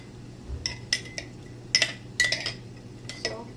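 A metal spoon scrapes and clinks against a pan while olive oil is stirred in, with several sharp, separate taps and scrapes spread across a few seconds, close and clear with no talking.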